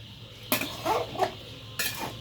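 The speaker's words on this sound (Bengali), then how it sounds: "এখন লাড়া দিয়ে দিতেছি আমার তরকারিটা" Bottle gourd and fish curry being stirred in a pot over a clay stove, several distinct metallic scrapes and clinks of a spoon against the pot, close and unhurried.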